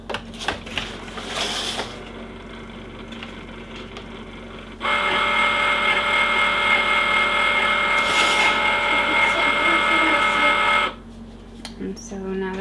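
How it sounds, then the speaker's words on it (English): A Cricut Maker cutting machine powers on with a steady mechanical whirring hum that sets in partway through and holds for about six seconds before stopping, with brief clicks and handling noises around it. "I will power on my machine"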